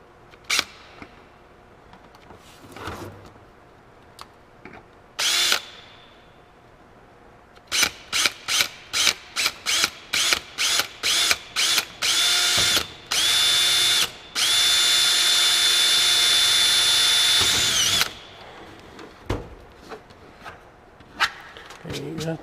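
A power drill bores into a Cessna aircraft during a cigarette-lighter install, sounding in rapid bursts that build into a long sustained run, loud and close, with quieter handling noises between.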